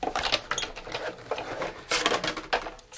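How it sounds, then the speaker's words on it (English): A Sizzix Bigz die-cut machine punches paper alphabet letters, making a whirring, clicking mechanical crank sound of moderate loudness that runs steadily for a few seconds at close range. "I'm going to punch out her letters"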